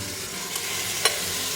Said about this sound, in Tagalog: Ilagay natin yung sibuyas, bawang, and then yung ating beef na minarinate natin.